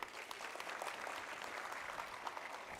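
At a tourism indaba event, an audience claps for the afternoon's speakers in a short, steady burst of fairly distant, even applause.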